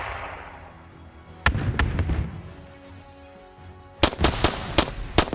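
Grenade explosions in a WW2 video game: a sharp blast followed by rumbling debris, then a quick cluster of three or four loud bangs near the end, all close and punchy.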